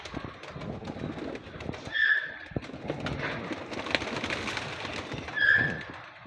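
A loft of about a hundred pigeons, with soft cooing calls rising twice over a busy background of shuffling, fluttering and knocking movements, fairly close.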